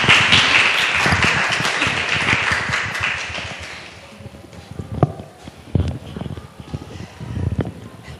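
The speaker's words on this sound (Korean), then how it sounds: "박수 부탁드립니다" A crowd at a book talk event gives a loud burst of applause that fades after a few seconds, followed by scattered footsteps, taps and light movement noises in the room.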